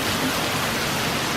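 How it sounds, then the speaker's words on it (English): A forest waterfall at a natural bridge roars as a steady, dense rush of falling water, continuous and close, with no voices. "there's the waterfall"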